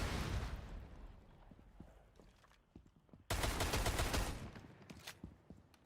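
Rainbow Six Siege gunfire comes as a loud burst at the start, then scattered faint shots and clicks, then a second heavy sustained volley midway that fades out, with no voices.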